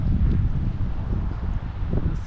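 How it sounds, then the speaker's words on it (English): Strong storm wind buffets a microphone outdoors, a loud continuous low rumbling roar with gusty surges throughout. "Whew, really windy."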